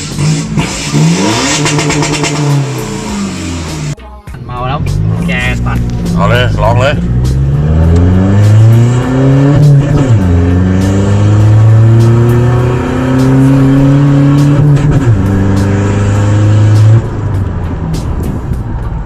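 A remapped 2020 Isuzu 1.9 DDI Blue Power diesel pickup engine revs repeatedly near the limiter, pitch climbing and cutting off in loud bursts, with a short gap early on; close and dominant.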